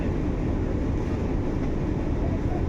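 Vande Bharat Express running on the line near Puntamba Junction, a dense, continuous rumble and rushing roar heard from inside the train, steady and loud with no break.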